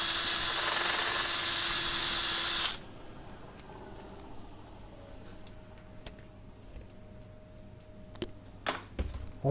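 A workshop dust extractor roars loud and steady with a broad hiss during oak burr bowl woodturning, then cuts off abruptly, leaving a quiet room with faint ticks and clicks.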